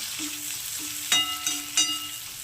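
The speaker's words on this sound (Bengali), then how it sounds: "ছোট করে পেঁয়াজ কুচি নিয়েছি তো সেটাকে একটু দিয়ে দিলাম এবার এটাকেও আমি একটু ভাজা করে নেব" Finely chopped onions sizzle in a pan after chillies for a chilli egg dish. A soft, steady fry sound is broken by a few sharp clinks of a spatula stirring against the pan.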